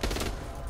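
A brief, dense burst of rapid gunfire in a violent shooter game, close and loud at first, then easing off slightly over a fraction of a second.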